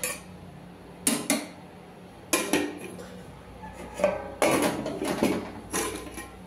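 A lid or cover clatters onto a pan of cooked katla fish in yogurt gravy, giving a few close metallic knocks and scrapes in bursts, with no talking.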